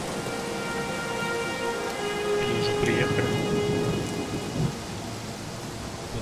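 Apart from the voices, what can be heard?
rain and thunder in the video game Blues and Bullets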